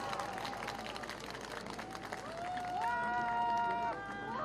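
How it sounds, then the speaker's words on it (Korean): Audience applause at a campaign rally for presidential candidate Lee Jae-myung, greeting musicians as they come onstage. Dense, steady clapping fills the clip, and sustained musical tones join in partway through. "뜨거운 박수로 환영해 주시기 바라겠습니다."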